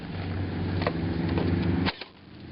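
Close-range airsoft gun shots in an outdoor skirmish, a few sharp cracks over a steady loud motor-like hum that cuts off near the end.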